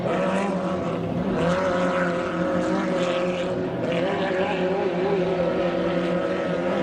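Hydroplane racing boat on a race course during a 2.5-litre class heat, its engine a steady, loud, continuous drone with harmonic whine, roaring throughout without pause.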